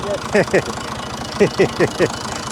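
A farm tractor engine idles with a low, steady rhythmic chug on a Portuguese farm, running underneath a voice that talks in short bursts throughout.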